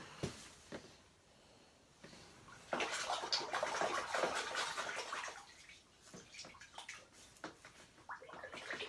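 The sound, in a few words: paint strainer being rinsed in water bucket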